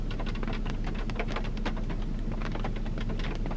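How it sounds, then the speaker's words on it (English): Rain falls in a steady, dense patter close by, with crisp individual drops striking a surface throughout and no voices. "Doesn't that rain sound so pretty?"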